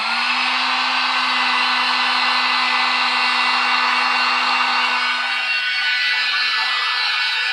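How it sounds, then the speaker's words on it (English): A heat gun blows hot air to soften EVA foam on a mannequin head for a cosplay mask, producing a loud, constant whooshing roar with a steady motor hum, close and uninterrupted. "So what I will do is use my heat gun."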